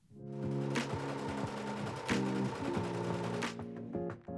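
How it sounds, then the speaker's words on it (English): An overlocker sews the shoulder seams of a garment, its motor whirring steadily with a rapid stitching chatter and a few louder bursts, close by and with no talk. "I've used an overlocker to sew the shoulder seams"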